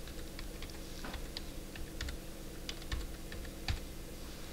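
Keys on a computer keyboard are typed in quick, irregular clusters of light clicks over a faint steady hum, with no talking.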